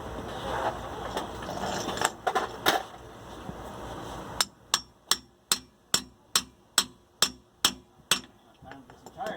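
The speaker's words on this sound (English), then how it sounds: "I got a hammer right here." A metal hammer strikes the rear shock of a Nissan Frontier pickup: a few scattered blows early on, then about ten sharp, evenly spaced clanks close by.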